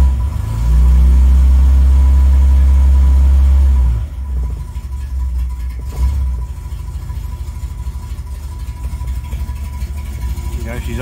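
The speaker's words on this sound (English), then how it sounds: "There you go, she's idling. Very low idle, but it is idling still." A diesel engine that may still have air in its fuel system, first running with a loud, steady low rumble, then dropping to an uneven, very low idle that sounds close to stalling, with someone talking at intervals.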